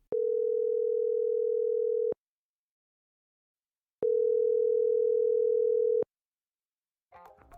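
A telephone ringback tone: two long, steady, loud beeps of about two seconds each separated by a two-second silence, followed by a brief burst of a voice at the end.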